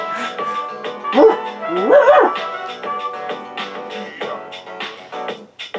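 Dog in the Persona 3 Portable video game making a run of close, loud yips, whimpers and barks in uneven bursts over faint background game music.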